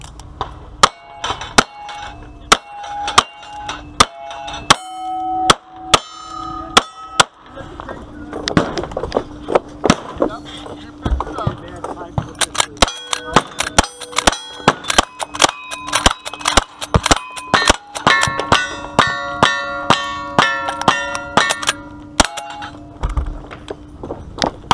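Shooter in a timed match firing at steel targets, many sharp shots each followed by a bright metallic ring, in quick irregular strings across the whole stretch, loud and close.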